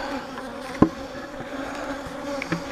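Honey bees buzz around a hive, a close steady insect drone with a few louder passes as individual bees fly near.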